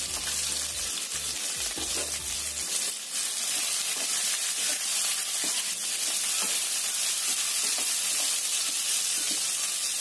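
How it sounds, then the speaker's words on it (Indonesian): Terasi shrimp paste fries in hot oil in a pan, giving a constant loud sizzle with occasional stirring scrapes. A low rumble fades out early on, and the frying runs on alone. "Terus terasinya ini juga kita goreng ya,"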